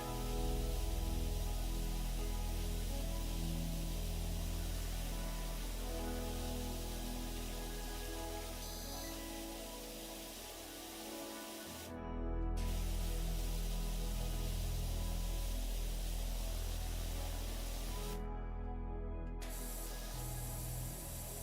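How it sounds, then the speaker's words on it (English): Pressure washer spraying in the video game Powerwash Simulator: a continuous loud hissing water jet runs for most of the stretch, cutting out briefly twice before resuming, with a low hum beneath and no talking. "I'm spraying gasoline again."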